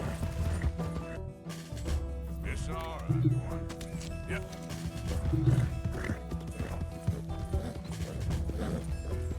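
A horse in the video game Red Dead Redemption II clip-clops and whinnies amid game sounds and music, hooves steady while a voice talks over them.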